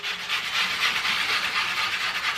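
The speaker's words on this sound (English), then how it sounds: "take your sandpaper, just like that. Touch it to your work." Steady dry rasping of sandpaper rubbed against a turned eucalyptus wood bowl, a continuous close scratchy hiss with slight back-and-forth swells.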